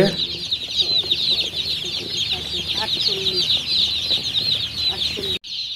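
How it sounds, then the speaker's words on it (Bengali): Dense, continuous high cheeping from a crowd of young Tiger-breed chicks fills a warm poultry shed heated by bulbs, steady and close throughout with a brief drop near the end. "আমার মুরগির বাচ্চা চলে আসছে"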